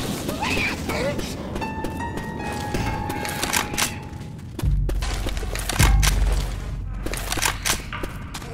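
Automatic machine-gun fire in Left 4 Dead 2 on hard difficulty, loud low thumping bursts cutting in around the middle and again later over a busy game soundscape, with voices talking throughout.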